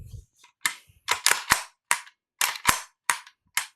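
A VFC AKS74U gas blowback airsoft rifle fires about nine sharp, loud cracks in an uneven rhythm, each shot close and distinct with short gaps of silence between.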